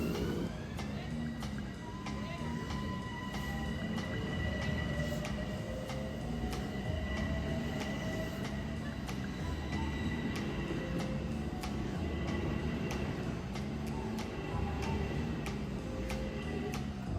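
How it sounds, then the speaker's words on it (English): A train rolls past Tuckahoe station at moderate distance, a steady low rumble with rhythmic clicks of wheels over rail joints, fairly quiet throughout. "That was our train that just passed,"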